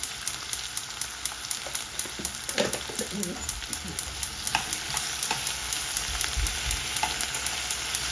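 Tomato rice with turmeric is stirred in a hot pan, with steady sizzling and frying hiss under a scatter of spoon scrapes and clinks, close and continuous throughout.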